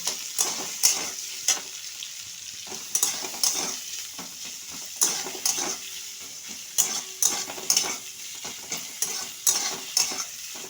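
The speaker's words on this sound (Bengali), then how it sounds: "পেঁয়াজ কুচি দিয়ে দিলাম এটা একটু ভালোভাবে ভেজে নেব" Chopped onions fry and get stirred in a pan for a fish-head and taro-leaf curry, with repeated scraping, sizzling bursts at an uneven rhythm over a steady, soft hiss, close by.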